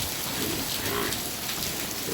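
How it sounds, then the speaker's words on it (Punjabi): Dense, steady rain pours down, a continuous hissing patter close by with no talking. "ਬਾਰਿਸ਼ ਦੇ ਕਰਕੇ ਜ਼ਰੂਰ ਅਸੀਂ ਰੁਕੇ ਹਾਂ ਪਰ ਬਾਰਿਸ਼ ਆ ਤੰਦਾ ਨਾ ਨਹੀਂ ਲੈ ਰਹੀ"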